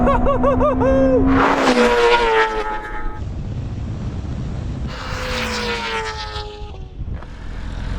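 A Ferrari SF90 and a BMW M1000 RR drag race, their engines screaming through rising gear sweeps, loud and close, then a second burst of high revving passes a few seconds later.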